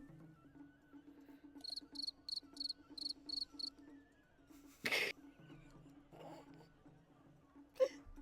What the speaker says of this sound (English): She listens to the insects chirp as she walked.